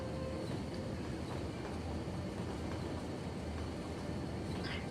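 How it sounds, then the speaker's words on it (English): A freight train rolls along in the city-building game Cities Skylines, giving a steady, continuous rumble with faint rail clatter that holds at an even level throughout, with no voices over it. "See where you're going, Mr. Freight Train, shall we?"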